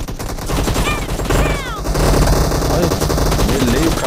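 Gunfire in the mobile battle royale game PUBG Mobile, with dense, rapid bursts of shots running continuously and loudly under game music and effects, while voices talk over the action.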